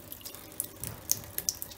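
Water poured and splashing over a telescope mirror being rinsed, with irregular splashes and drips against a quiet, faint running-water backdrop.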